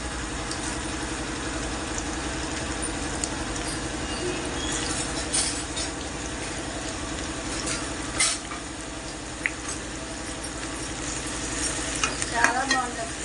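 Curry leaves fry in hot oil in a pan during a raw banana garlic fry, a steady close sizzle with occasional scraping stirs and clinks.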